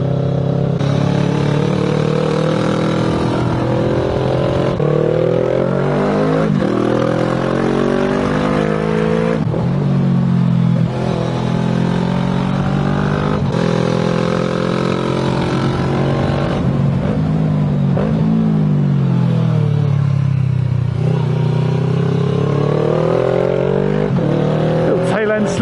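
Motorcycles ride the Stelvio Pass, one with an engine more than twice the size of the other's. A loud, close, continuous engine drone rises and falls in pitch through gear changes and throttle shifts, with no pause.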